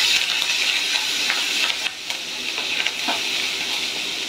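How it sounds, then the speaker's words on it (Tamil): Green chillies and curry leaves sauté in a pan with chana dal and urad dal for coconut rice, giving a steady, close, bright sizzle throughout with a few small crackles and stirring ticks. "பச்சை மிளகா கறிவேப்பிலை போட்டு வதக்குறேன் ஃப்ரெண்ட்ஸ்"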